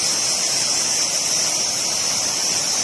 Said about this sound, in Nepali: यो खोलाको आवाज पनि आउँछ